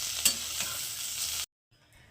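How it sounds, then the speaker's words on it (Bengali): Paneer pieces sizzle and crackle in oil in a kadai as they are stirred, a steady loud hiss with a sharp scrape near the start, then cutting off abruptly to near silence with a faint hum after. "পনিরগুলো একটু হালকা ভেজে নেবো, খুব বেশি ভাজবো না, হালকা ভাজবো।"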